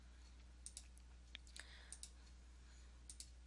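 A computer mouse is right-clicked while drawing lines in AutoCAD, about a dozen faint, crisp clicks, often in quick pairs, against quiet room hum.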